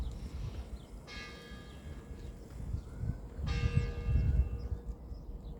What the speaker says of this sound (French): les cloches ça sonne